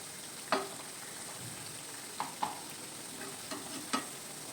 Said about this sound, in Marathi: एक एक मी असे साई पलटी करून घेते बिस्किट